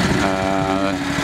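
An engine-driven soil auger boring into stiff clay and weathered rock gives a steady, close, humming engine drone with a buzzy harmonic tone, constant throughout the short stretch.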